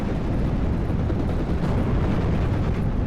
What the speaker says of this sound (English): my bombers break through and are able to drop bombs onto the enemy artillery